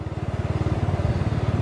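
A motorcycle engine idles close by on a ride through rural Vietnam, a steady, rapid thumping pulse at moderate level with no other sounds.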